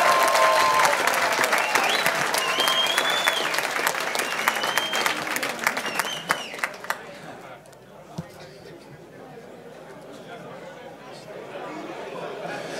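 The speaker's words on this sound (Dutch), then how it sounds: "Jou nog een applaus" Audience applause at an awards ceremony for sport and entrepreneurs, loud sustained clapping that thins out after about seven seconds into scattered claps and murmuring crowd chatter.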